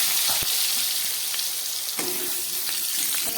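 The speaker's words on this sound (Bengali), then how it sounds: "তেলটা গরম হয়ে গেছে, এবার একটু সাদা জিরে ফোড়ন দিচ্ছি। সঙ্গে দিয়ে দিচ্ছি একটা তেজপাতা, আর এখানে দিয়ে দিচ্ছি 4 টুকরো মতো আলু।" Cumin seeds, a bay leaf and potato pieces fry in hot oil in a pan, giving a steady, close hiss with a few scattered clicks and spatters.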